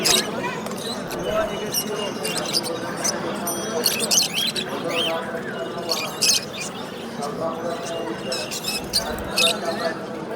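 Small caged birds chirp and squawk in quick, scattered bursts at a busy bird market in Namangan, the close twittering running steadily beneath someone talking.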